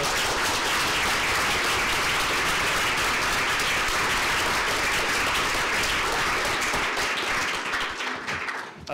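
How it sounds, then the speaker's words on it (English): An audience at a sociology conference applauds after a keynote, a dense, sustained wash of clapping from a full room that holds steady before thinning out at the very end. "Could we please give him a warm round of applause?"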